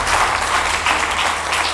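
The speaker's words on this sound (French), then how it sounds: "Est-ce qu'on peut applaudir?" A loud, dense burst of audience applause at a film screening event, many hands clapping together at full strength.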